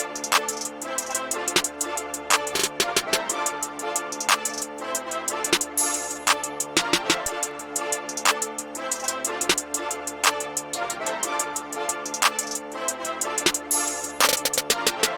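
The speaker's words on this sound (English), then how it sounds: "So piecing this snare pattern with what we have so far, it sounds like this." FL Studio drum beat with rising snare rolls layered over steady hi-hats and a booming 808, playing as a dense, continuous bouncing loop with no voice.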